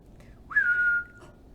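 A single rising then steady whistled note from a person, about half a second long, clear and close, with no talk over it.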